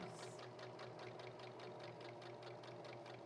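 A sewing machine stitches cloth liners steadily at a quick, even rhythm, its needle ticking rapidly over a low mechanical hum, heard alone.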